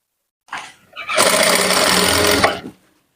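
Sewing machine stitching a fish-cut umbrella lehenga: a brief short burst, a pause, then a loud, steady close-up run of rapid stitching lasting about a second and a half before stopping.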